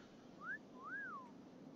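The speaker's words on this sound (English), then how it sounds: "So we need to use slash whistle emote," A whistle emote in World of Warcraft: two clear rising-and-falling whistled notes, a short one followed by a longer swooping one, alone over soft game ambience.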